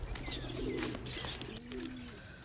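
An injured blue bar pigeon, wounded by a hawk, gives soft, low cooing nearby in a brief, quiet call.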